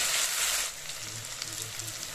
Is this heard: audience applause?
no